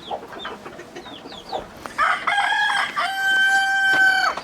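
Chickens cluck softly in a backyard coop, then a rooster lets out a loud, close crow that holds and repeats, ringing over the quieter hens.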